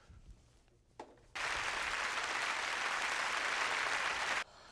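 A sudden burst of studio audience applause on a game show, a loud, sustained wall of clapping for about three seconds that cuts off abruptly, following a quieter stretch.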